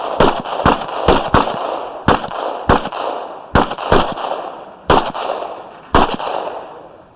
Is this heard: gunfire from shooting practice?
yes